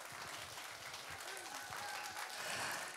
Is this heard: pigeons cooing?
no